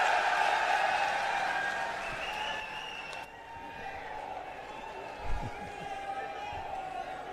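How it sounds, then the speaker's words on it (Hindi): A crowd at an Aam Aadmi Party political rally in Sri Ganganagar, Rajasthan, applauds. The clapping is fairly loud at first and then fades under an amplified voice and background crowd noise. "आप सभी की जोरदार तालियों के बीच में"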